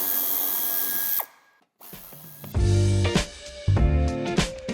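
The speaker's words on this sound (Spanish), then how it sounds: "Con la misma llave aflojaremos los 4 tornillos de la parte inferior del paragolpes" A power tool whirs in short loud bursts as screws on the lower bumper of a 2018 Volvo XC40 are loosened, separated by brief pauses.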